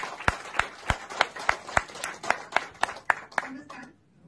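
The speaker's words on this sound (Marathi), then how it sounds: "प्लीज जोरदार टाळ्या." Short audience applause at an organisation's staff introduction: a run of about fifteen sharp, evenly spaced claps, fairly close and quick, fading out at the end into quiet.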